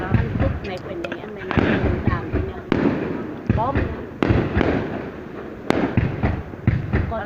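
New Year's Eve fireworks over Bac Kan province, Vietnam, in 2019: sharp bangs and crackling bursts go off at irregular intervals while people talk nearby throughout.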